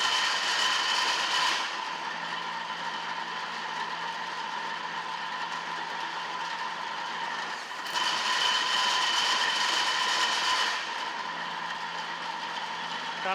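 A restored metal planer runs steadily, its gear turning the feed screw that moves the head, a continuous mechanical drone with a bright whine that changes tone in phases as the machine cycles.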